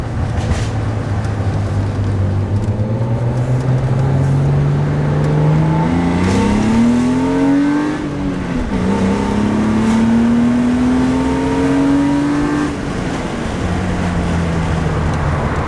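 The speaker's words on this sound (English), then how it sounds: "on diesel, this thing burbles a decent amount, even with the stock exhaust" Diesel car engine with stock exhaust, a build planned as a drift car, revving up and settling repeatedly, a loud close burbling drone with rising and falling pitch sweeps and no talk.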